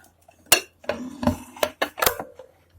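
Spoon scraping and clinking against a plate while fried rice with sausage and mixed vegetables is served, a series of close, sharp metallic knocks and scrapes in an irregular rhythm with no talking.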